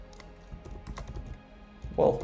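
Computer keyboard being typed on at a desk, a quick run of close key clicks for about two seconds, followed by a brief tonal burst at the end.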